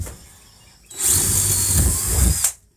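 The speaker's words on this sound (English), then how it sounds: "So let's drill some holes." Power drill boring holes through a wooden beehive box, one loud continuous whine of about a second and a half with a quick start and stop, up close and with no talking.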